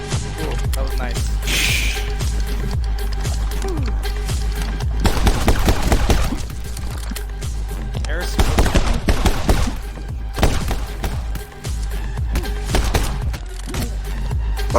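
Video game gunfire from a pistol used as a sniper crackles in repeated sharp bursts over a thick, constant backdrop of game sound.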